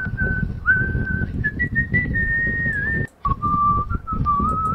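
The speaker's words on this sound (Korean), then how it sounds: "바람이 불면서 휘파람을 분다" AI-generated whistling from Meta AudioGen: a clear, sustained melodic whistle slides between pitches over a low, rumbling wind, with a brief gap partway through.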